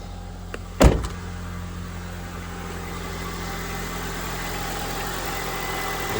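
A 2004 Honda Civic EX idles steadily after a head gasket change, a low, even hum close by. A sharp clunk near the start breaks the smooth idle, and no one talks.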